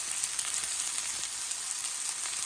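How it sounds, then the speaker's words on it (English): Beef searing in a pan of hot avocado oil, a steady bright crackling sizzle that fills the whole stretch, close and even with no talking. "let this second batch get kind of a little sear on the first side."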